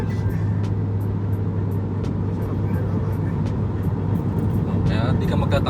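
A Honda Civic with a manual transmission accelerating hard in second gear, giving a loud, steady engine drone from inside the cabin that holds throughout, with a voice talking over it.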